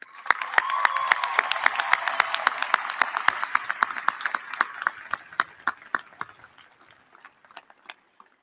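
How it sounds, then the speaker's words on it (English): A commencement crowd at the Oregon Institute of Technology 2018 ceremony applauds graduates' families and friends; dense clapping swells, then thins to scattered individual claps that trail off into quiet. "please join me in thanking them with a round of applause"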